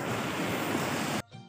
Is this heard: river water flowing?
yes